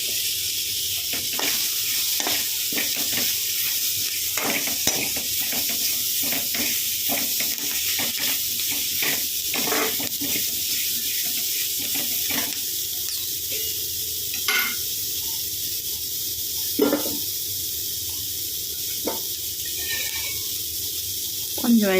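Flat beans curry with turmeric and salt frying in oil in a pan, a steady close sizzle throughout with repeated scraping stirs and occasional louder clacks of the spoon.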